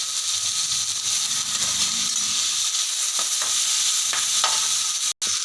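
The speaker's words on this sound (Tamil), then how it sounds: "தக்காளி நல்லா வதங்கிருச்சு" Tomatoes fry with onion, curry leaves and green chilli, a loud, constant hissing sizzle up close with a few brief stirring scrapes in the pan.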